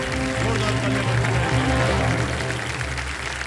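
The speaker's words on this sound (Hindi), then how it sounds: "जोरदार तालियां बजाएं।" A studio audience on a television quiz show claps loudly and steadily to welcome the contestants, with a constant bed of applause and a low tonal music hum beneath it.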